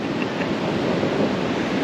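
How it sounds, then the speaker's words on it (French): Strong, large ocean waves break along Daytona Beach in Florida, producing a loud, steady roar of surf mixed with wind rumble and no talking. "Il y a beaucoup de vagues, hein? Ouais, les vagues sont fortes, sont grosses, ouais."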